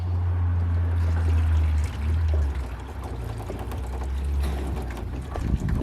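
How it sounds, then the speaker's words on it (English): Water pours steadily from a tank into a container for a homestead animal to drink, a continuous splashing trickle, close and fairly loud, with no talking over it. "There's water for Poppy"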